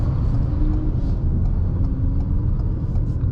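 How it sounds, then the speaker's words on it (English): Engine of a 2021 Ford Escape with a turbo, accelerating from inside the cabin: a steady, loud low rumble and drone that holds through the gear with a faint whistle above it. "You can even hear like little turbo sounds too, which is kind of interesting"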